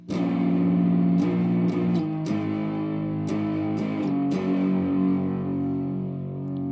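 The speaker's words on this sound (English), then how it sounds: "I should put distortion on because that's what they're doing, or some sort of form of different tone" Distorted electric guitar chords ring out and are struck again several times, loud and sustained with a gritty, saturated tone.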